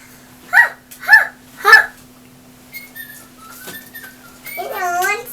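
A Little Live Pets toy bird plays back a recorded voice in three short chirpy bursts, followed by warbling electronic tweets and a rising trill, close and fairly loud with a steady background hum.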